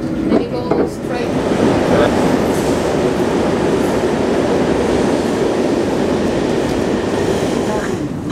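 An RER airport commuter train from Charles de Gaulle toward Gare du Nord in Paris rumbles along at speed, a loud continuous roar with rail clatter heard from inside the carriage.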